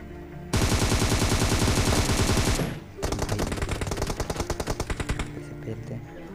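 Rapid automatic gunfire in a BGMI battle-royale firefight, loud bursts of fast repeated shots, a brief pause, then another long rattling burst with a person's voice faintly underneath.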